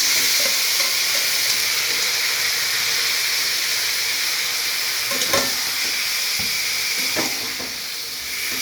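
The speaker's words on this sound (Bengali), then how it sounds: "এবার আমি এই মশলা মাখানো যে মাখিয়ে রেখেছিলাম সব দিয়ে এইটা ঢেলে দেবো মাংসটা" Spiced, marinated meat goes into a pan of partly fried potatoes and sizzles loudly, a steady hissing fry with a few stirring clatters near the end.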